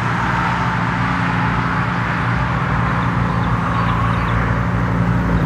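A McLaren 720S pulls out of the Twin Peaks car show, its engine a steady, moderately close rumble mixed with the broad noise of surrounding traffic, with no voices over it.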